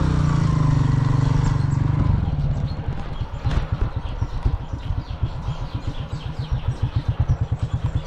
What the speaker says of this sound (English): I wanna park my bike under the shade.